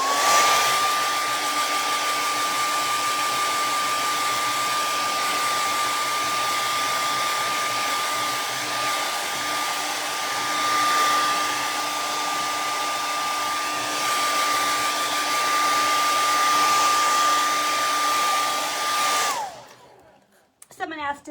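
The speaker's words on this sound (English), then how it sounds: "Rinse my brush, and I grab a blow dryer real quick." A handheld blow dryer runs steadily at close range with a constant whining hum, used to dry paint on a wooden porch-leaner stencil project, then cuts off near the end.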